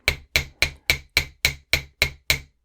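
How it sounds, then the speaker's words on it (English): Nine evenly spaced, sharp hammer blows ring against a metal block while flattening about a quarter inch at the end of a wire for a handmade clasp; close and loud, each strike decaying quickly before the next. "if you have a hammer and block, we're going to go ahead and we're going to flatten about"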